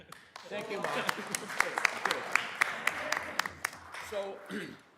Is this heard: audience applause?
yes